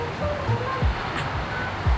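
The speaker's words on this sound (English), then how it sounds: "Nothing but the sounds of waves this morning." Ocean waves break on a Tenerife shore in the morning, a steady soft wash of surf with occasional low rumbles and swells, heard from a moderate distance with no voices.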